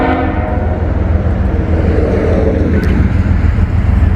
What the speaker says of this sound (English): This will be the final train of the day